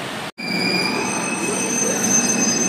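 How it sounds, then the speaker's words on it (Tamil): The Rockfort Express pulls out of the station with a steady, close rumble and sustained high-pitched wheel squeal after a brief break at the start, and no one speaks. "ராக்ஃபோர்ட் எக்ஸ்பிரஸ் டிபார்ட் ஆகிடுச்சு ராக்ஃபோர்ட் எக்ஸ்பிரஸ்."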